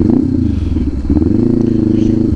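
Kawasaki Ninja 500 fitted with an SC Project open exhaust idles with a loud, steady low rumble and a slight dip partway through, close to the microphone with no talking.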